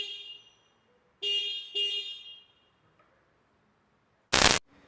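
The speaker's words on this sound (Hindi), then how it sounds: "इस बाइक का एक बार हॉर्न आपको सुना देते हैं कि इस बाइक का हॉर्न कैसा है।" A 2024 Bajaj Freedom 125 CNG motorcycle horn gives two short, loud, bright honks in quick succession, with a sharp louder burst near the end and otherwise quiet surroundings.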